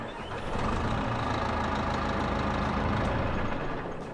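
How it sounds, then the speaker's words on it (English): A truck engine in a video game mod runs at a loud, steady idle, a dense broadband rumble that swells up in the first half second and holds evenly throughout. "Let me turn that engine over."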